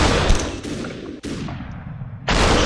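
Gunfire in the shooter game Superhot, loud close blasts with long ringing, slowed-down tails, three distinct bursts over a few seconds and no voice.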